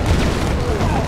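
Heavy booming explosions from an airstrike in the real-time strategy game Red Alert 2, a dense low rumbling blast filling the whole short moment at close, loud level.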